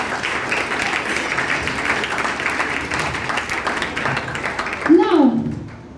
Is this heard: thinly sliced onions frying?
no